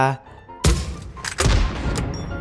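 Grenade launcher (M79) shots in PUBG Mobile: a heavy, deep thump at about 0.6 s and another near 1.4 s, each with a rumbling tail, following a brief tonal game sound.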